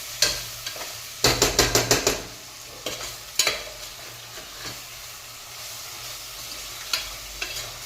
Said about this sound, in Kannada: ಈರುಳ್ಳಿ ಚೆನ್ನಾಗಿ ಫ್ರೈ ಆಗಿದ್ರೆ ಸಕ್ಕತ್ತಾಗಿರುತ್ತೆ ಟೇಸ್ಟು.